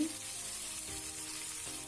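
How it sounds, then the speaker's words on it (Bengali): Green banana pieces frying in a pan over medium-low flame, a steady close sizzle with a couple of soft scraping stirs. "কিছুক্ষণ পর পর কাঁচকলাগুলিকে নাড়াচাড়া করতে হবে তাহলে সবগুলি কলা সুন্দরভাবে ভাজা হবে আস্তে আস্তে কলাগুলি ভাজা হচ্ছে"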